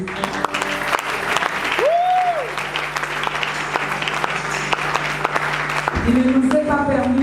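A church congregation applauds and cheers in praise of Jesus, with dense, steady, loud clapping filling the room throughout, plus a few sustained tones and voices mixed in.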